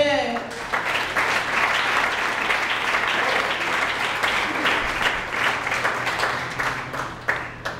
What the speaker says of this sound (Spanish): Dele palmas si lo cree.